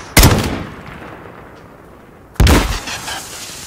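Gunfire in the Call of Duty: Modern Warfare video game, two loud, sharp shots spaced about two seconds apart, each with a short echoing decay.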